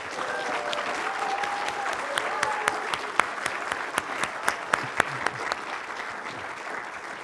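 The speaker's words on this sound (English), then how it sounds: "give them a big round of applause" An audience applauding at a university Three Minute Thesis final competition, a steady wash of claps with sharper individual claps standing out, fairly close, with faint voices underneath.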